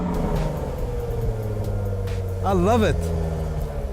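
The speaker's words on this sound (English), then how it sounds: "V6 engine roaring in the back." Jaguar F-Type V6 engine roaring from the rear, a steady low rumble that swells into a brief rising-and-falling rev near the end, with a voice talking over it.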